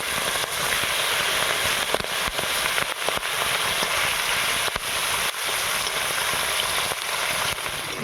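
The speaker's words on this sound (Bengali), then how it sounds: "বাকি মাছটাও ভেজে নেব।" Fish frying in hot oil, a dense steady crackling sizzle with sharp pops scattered throughout, loud and close with no voices.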